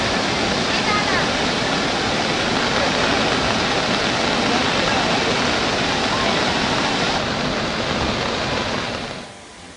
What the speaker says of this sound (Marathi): रोमांचित करणारा धबधब्यांचा आवाज